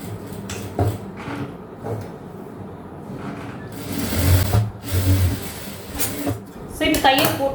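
Sewing machine stitching a puff sleeve with a double stitch, running in short bursts with some handling clatter from fabric and tools nearby.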